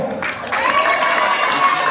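Audience applause at a football festival event swells in after a brief lull and carries on as a steady crowd clapping with light cheering for a couple of seconds.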